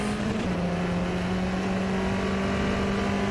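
A Tatuus single-seater race car in the rFactor 2 sim racing game drones at high revs, a loud, continuous engine whine with a slight pitch shift early on, holding steady without any talk.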